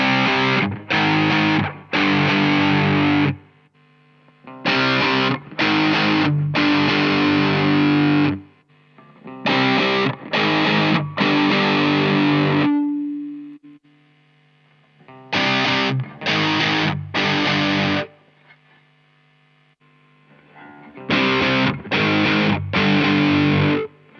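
Distorted electric guitar through a stock cabinet impulse response, loud chugging chords played in short repeated phrases with gaps of silence and one ringing sustained note.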